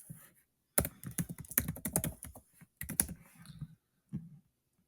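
A computer keyboard clicks as a short password is typed, a close quick burst of keystrokes with a brief pause and a couple of final taps.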